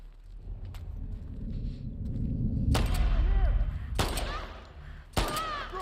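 Three sharp gunshots from The Last of Us Part II ring out at uneven intervals, each with a ringing tail, over a low rumbling game background with faint voices.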